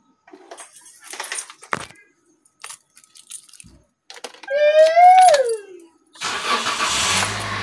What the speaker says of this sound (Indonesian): ini mobilnya saya starter dulu, saya hidupin